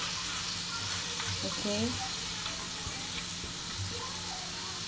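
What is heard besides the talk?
mixing papaya in a frying pan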